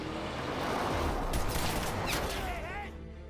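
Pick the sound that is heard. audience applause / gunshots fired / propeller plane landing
gunshots fired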